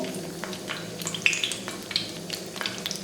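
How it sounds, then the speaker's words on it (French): An apple beignet frying in hot oil: a steady sizzle and crackle with small pops scattered throughout, close and even, with no talk. "je commence à plonger un beignet et je teste un petit peu la température"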